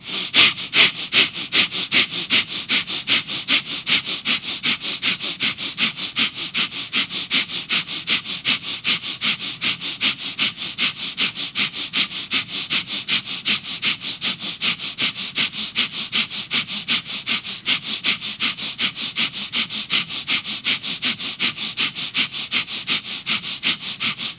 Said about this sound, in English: And again, breath of fire.